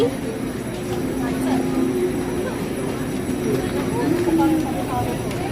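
Steady rumble of a Taipei MRT metro train in motion with people talking over it throughout, a constant mechanical drone filling the background.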